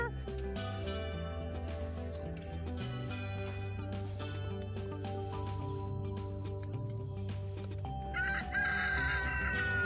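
Chickens in a backyard garden coop crow and cluck over a steady, dense background, with a rooster's calls repeating throughout and a louder burst near the end.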